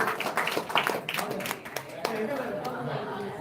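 Clapping and cheering from a crowd at a Maha Shivaratri temple auction of auspicious items, a scattered patter of hands under chatter and a voice over the crowd, moderately loud throughout.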